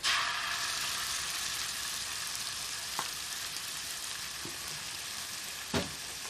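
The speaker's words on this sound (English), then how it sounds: "So now it's time to add the ginger and garlic paste." Ginger and garlic paste sizzles steadily in a pan of reduced onions for a Madras curry, a constant bright hiss with a few soft clicks of a utensil, quiet and close.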